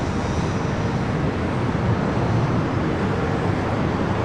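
An American Airlines A321neo on its takeoff roll at Los Angeles International Airport, heard as a steady, loud, broadband engine roar that holds constant with no pauses and no voices over it.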